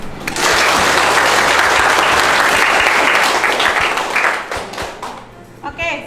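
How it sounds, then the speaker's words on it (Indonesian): Classroom audience bursts into loud, dense applause at a pharmacy teaching session, sustained clapping close by for several seconds before it thins out and fades, with a voice starting to speak at the end. "Untuk Eva, ayo kita berikan aplaus."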